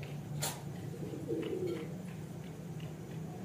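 Pigeons at a zoo in Punjab, Pakistan give a soft, brief coo midway through, faint and low against a steady background hum of outdoor ambience.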